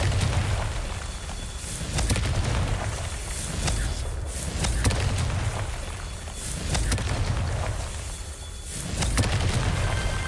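The Confringo spell in the Hogwarts Legacy video game sets off a series of rumbling booms one after another, a dense and continuous loud roar with no pause.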